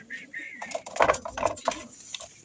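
Pigeons coo in an aviary, a few soft rolling coos and throaty calls rising and falling in short phrases at close range, with light rustling and no talk over them.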